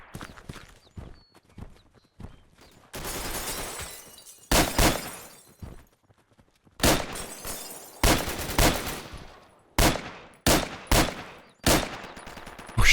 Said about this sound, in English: really tinny, screechy kind of bullet or gunshot sound